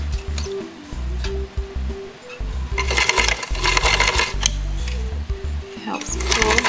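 Sewing machine stitching neoprene, running in bursts with a low rhythmic motor hum and rapid needle chatter, starting and stopping close by with no talk.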